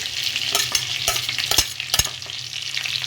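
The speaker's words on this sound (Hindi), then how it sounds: "अब इनको तेल में डाल रही हूँ। तेल अच्छे से गर्म हो जाएगा, इसको एकदम भी चलाना है।" Whole red chilies frying in hot oil over high flame give off a steady close sizzle, with repeated scraping clinks of a spoon stirring the pan.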